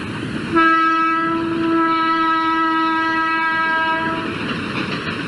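A train passes on a railway line beside a historic tomb in India, sounding a loud sustained horn that holds for about three and a half seconds over the rumble of rolling wheels. No voices are heard.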